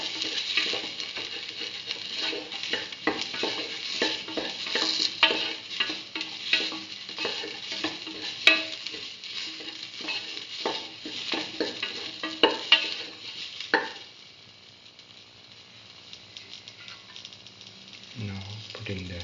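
Mustard potato rice sautéing in a pan gives a steady sizzle with spoon scrapes and light taps, then eases into a quieter simmer near the end.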